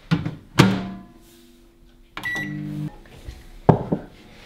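A microwave oven melting butter, sugar and honey: door thunks shut, keypad beeps, then the oven hums steadily for about a second before another beep and a clunk, recorded close in a quiet kitchen.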